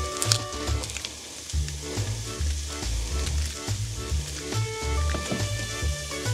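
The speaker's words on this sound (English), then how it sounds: "You can hear that sausage behind me." Sausage sizzles steadily in a hot pan, a continuous crackling hiss with small pops, heard close and fairly quiet with no talk over it.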